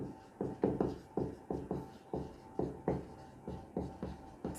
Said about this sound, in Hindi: लिखता हूं दादा साहेब